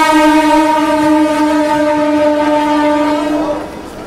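A railway locomotive at Raebareli junction station sounds a loud, sustained horn blast held for about three and a half seconds before cutting off, with faint station noise beneath.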